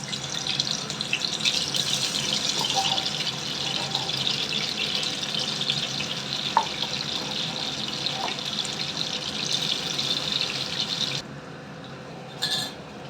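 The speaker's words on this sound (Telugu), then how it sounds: "దీనిలో డీప్ ఫ్రై చేసుకోవాలి కాకరకాయ ముక్కల్ని." Bitter gourd pieces deep frying in hot oil give a dense, steady hiss that carries on without a break and then drops noticeably in the last couple of seconds. No voices.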